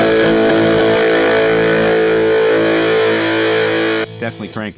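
Electric guitar played through the Mr. Smith Distortion amp model on a LEKATO Cube Baby multi-effects pedal, a loud, sustained, heavily distorted chord ringing for about four seconds before cutting off into a few short choppy notes.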